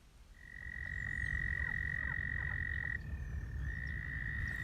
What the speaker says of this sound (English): in addition to the very loud American toads